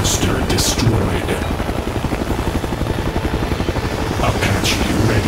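In a game built on the Unreal Development Kit, an Apache attack helicopter gives off a loud, continuous rotor chop. The blades thump in a fast, steady rhythm close by.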